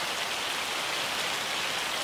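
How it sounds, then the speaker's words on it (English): Steady, dense patter of rain falling in the Farming Simulator 25 video game around a vineyard in June, a continuous hiss with no voices. "now that it's raining"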